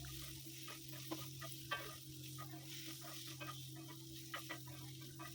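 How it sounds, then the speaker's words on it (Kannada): Capsicum and paneer fry in a pan with a soft, steady sizzle, faint and continuous, broken by light stirring scrapes and ticks. "ಅಂದರೆ ಫ್ರೈ ಮಾಡ್ತಾಯಿದ್ದೀನಿ"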